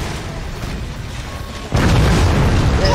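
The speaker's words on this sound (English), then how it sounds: "This is a cannon." A cannon fires in the video game Forts: a sudden heavy boom cuts in partway through, followed by a sustained loud rumble over steady background noise.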